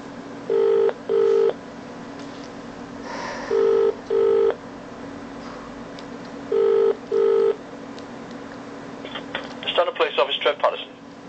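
A telephone line rings in three pairs of double purring tones, evenly spaced over a faint line hiss, followed by a brief burst of clicking and crackle as the call connects.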